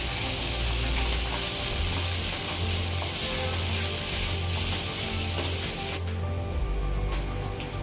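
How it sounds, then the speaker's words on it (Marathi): Spices sautéing in a pan for Amritsari paneer bhurji give a steady, close sizzle and fry hiss running the whole time, with faint stirring scrapes and no talk. "हे मसाले अगदी छान परतून घ्यायचे।"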